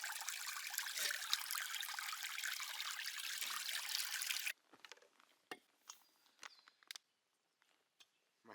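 Cold stream water pours and trickles steadily while camping dishes are washed outdoors in the bush, a loud continuous rush for about four seconds, then it stops, leaving scattered small splashes, clinks and handling noises.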